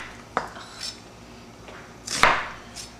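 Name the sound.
chopping onions for dicing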